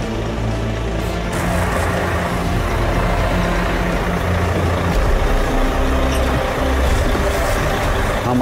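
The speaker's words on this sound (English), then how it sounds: "Stuart's got to use all his driving skills to manoeuvre the truck off the platform and onto the" Eddie Stobart truck manoeuvring slowly onto a train bed, its diesel engine idling and rumbling steadily up close, with faint hisses over the low drone.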